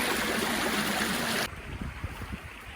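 A small stream running through snow rushes loudly as broadband water noise, then drops abruptly to a quieter, gurgling trickle partway through.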